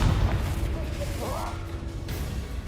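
A Confringo blast spell detonates in Hogwarts Legacy, a loud booming burst with whooshing debris over a sustained low rumble, while a voice talks over the action.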